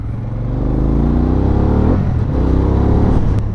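Harley-Davidson Pan America motorcycle ridden offroad, a loud, close engine drone that rises and falls in pitch as it revs, with some rattling and wind noise and no talk.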